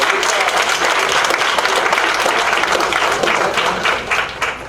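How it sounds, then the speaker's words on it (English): An audience at a school district board meeting gives a loud, sustained round of applause that thins out toward the end, with a voice faintly beneath. "Give FCSD a round of applause."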